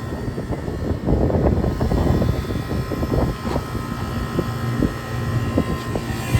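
A walk-in freezer's condensing unit runs with its fan turning, giving a steady, loud mechanical drone with a rough low rumble and faint fluttering throughout.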